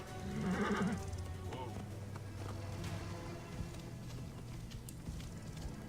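A horse in Assassin's Creed Origins gives a loud neigh near the start, followed by clip-clop hooves and game ambience with a low background hum.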